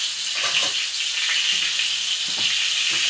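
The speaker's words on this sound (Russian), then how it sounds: "Можно перевернуть и на этой сковородке" Chebureki sizzle and spit in hot oil in a frying pan, a steady close hiss with faint clicks throughout, no voices.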